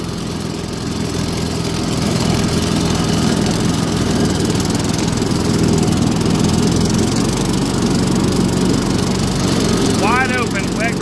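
A Cub Cadet riding lawn mower runs steadily at close range while cutting wet grass, a continuous loud engine drone with blade whir that holds throughout, briefly joined by a faint high chirp near the end.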